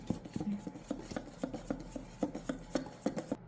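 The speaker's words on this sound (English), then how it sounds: "into our flour, and we're going to whisk it." A whisk clinks and scrapes rhythmically against a bowl while spices are mixed into flour for a coconut cake batter, a quick run of close, light metallic taps with no talking.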